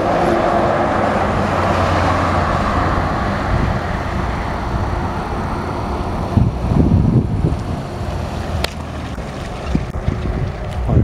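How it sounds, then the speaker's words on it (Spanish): Trucks passing at speed on a road, a loud rushing roar that fades and returns, buffeted by heavy wind noise on the microphone, with a few sharp knocks near the end. "al lado de esta carretera que pasa un mogollón de camiones a toda hostia"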